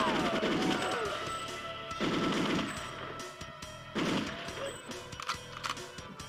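Rapid automatic gunfire from the GoldenEye randomizer video game rattles in repeated bursts with brief pauses between them, loud and dense.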